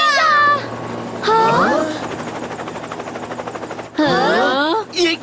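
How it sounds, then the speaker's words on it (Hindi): Helicopter flying in a Beyblade Metal Fusion cartoon battle scene, a steady rotor chop with droning engine underneath, sitting under excited cartoon voices that talk at the start, middle and end. "वो हेलीकॉप्टर।"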